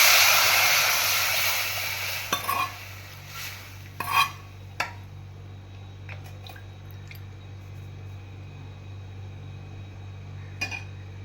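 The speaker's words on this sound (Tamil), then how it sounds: "ரசம் இதில் போட்டுக்கணும்." Hot rasam poured into a pan of sizzling mustard seed and curry leaf tempering, a loud steady frying hiss that fades as the liquid settles, with a few clinks of a utensil against the pan.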